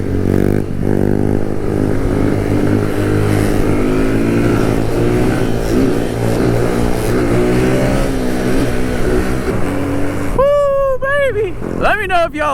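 A Kawasaki Z125 motorcycle rides along, its small engine buzzing loud and near while it revs up and down through the gears, with quick rising revs near the end and a rider talking over it.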